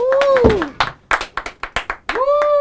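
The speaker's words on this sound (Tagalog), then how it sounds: "So yung palakpakan naman tayo dyan! Pumalakpak kayo!" A brief burst of audience clapping, a handful of sharp claps in quick succession between stretches of singing or talking during a guitar jam session.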